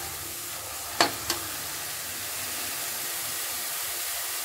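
Mochai beans, a field bean, frying in hot oil, giving a steady soft broadband sizzle throughout, broken by two brief sharp crackles or pops near the start, with no talking.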